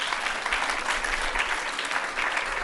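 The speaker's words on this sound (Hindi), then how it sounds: "इनके लिए ताली बजाओ भाई" An audience at a spiritual discourse breaks into dense, continuous applause, a steady wash of many hands clapping together at even loudness for the whole stretch.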